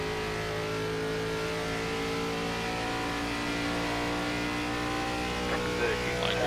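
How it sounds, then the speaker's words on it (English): A race car engine in the iRacing game drones steadily at Darlington Raceway as the car drives deep into a corner, with sustained harmonic whine and a faint tire squeal near the end, under quiet commentary. "Car driving in really deep into the corner."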